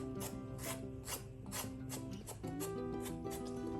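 A knife peels the skin off a halved snake gourd in a kitchen, making a quick run of rasping, scraping strokes that repeat steadily over tonal background music.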